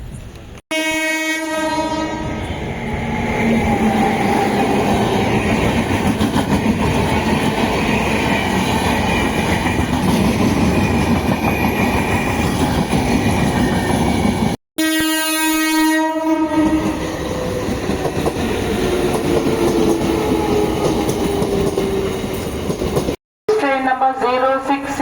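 An Amrit Bharat Special passenger train rolls loudly through a station in Tamil Nadu with a steady, continuous rumble and clatter of wheels on rails, its horn sounding at the start and again midway and near the end.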